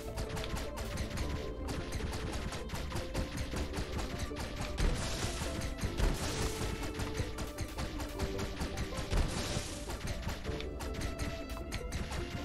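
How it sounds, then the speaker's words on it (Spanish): Dense, busy clatter of rapid triple-shot firing from the Owlboy video game, packed with crunchy impacts and hits over steady background music throughout. "Si solo mantienes, hace el triple disparo"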